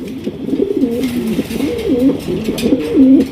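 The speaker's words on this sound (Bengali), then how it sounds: "এই যে সাইডে নর আছে দেখছেন এই যে নর ডাকতেছে" Male pigeon cooing in a rolling, repeated series, loud and close with no talk.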